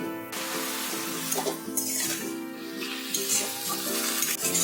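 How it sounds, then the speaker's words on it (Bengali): Greens with salt and tomato stirred in a pan as the water cooks off, with a steady close sizzle and repeated scraping strokes of the spoon. "অনবরত নাড়তে থাকতে হবে যতক্ষণ না এই যে জলটা, নিচের জলটা শুকিয়ে যাচ্ছে।"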